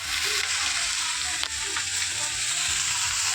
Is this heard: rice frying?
yes